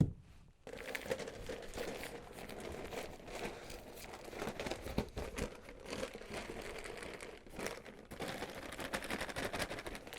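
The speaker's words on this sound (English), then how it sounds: "This is just a garbage bag that I'm going to put down here where I'm going to put the plaster." A plastic garbage bag being spread over a bathroom floor in new construction, giving a steady, close, faint crinkling and rustling that continues throughout with small crackles and no talking.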